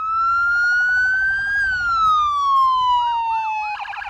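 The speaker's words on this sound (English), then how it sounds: "I just wanted to make sure that we had all the sirens, bells and whistles" A convoy of police cars sounds its sirens: a loud wailing tone rises and falls slowly, then breaks into a quicker warbling yelp near the end, with faint road noise underneath.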